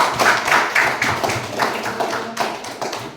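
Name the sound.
classroom applause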